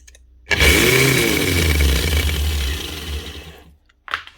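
A Rotabroach Element 40 low-profile magnetic drill with a fault spins up abruptly, running with a loud, rough grinding whine and low rumble for about three seconds before winding down, then a brief clunk follows.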